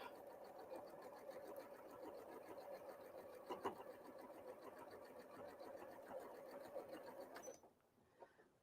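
A sewing machine hums and stitches continuously through fabric for about seven seconds in a quilting session, a steady mechanical whir with faint clicks, then stops abruptly into near silence.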